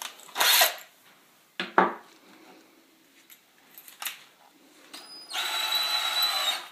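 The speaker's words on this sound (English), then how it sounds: "I'm just going to use it to pilot drill a hole so the screws don't crack the wood." A 1/8 inch bit pilot-drills a hole into a wooden 2x4, short scraping and clicking handling sounds giving way to a steady, close whirring drill run toward the end.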